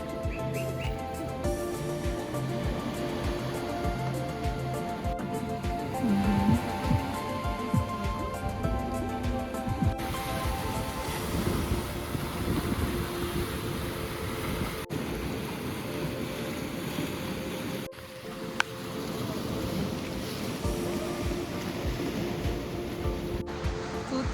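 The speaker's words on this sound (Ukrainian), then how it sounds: "Тут дуже гарне море. Воно таке чорне і прекрасне, яке розбивається об скелі." Black Sea waves breaking against rocks on the coast at Odesa, a steady, loud wash of surf that rolls on without pause, with wind buffeting the microphone.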